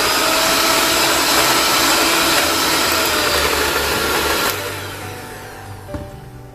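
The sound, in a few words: whisking ingredients for French apple cake batter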